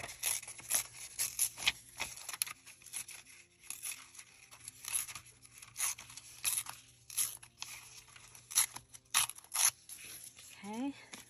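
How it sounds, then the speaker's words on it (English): Rice paper torn by hand around a printed mushroom image, a series of soft, intermittent crinkly rips and rustles at close range, quiet, with someone speaking between them. "I'm going to go ahead and rip around the mushroom."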